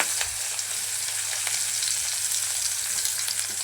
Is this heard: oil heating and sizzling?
yes